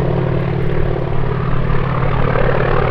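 A military warbird departs the runway at EAA AirVenture Oshkosh, its engine a loud, steady, close propeller roar throughout the short stretch.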